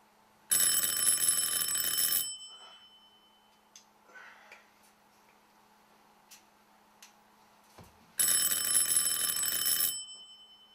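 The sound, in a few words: alarm clock ringing early in the morning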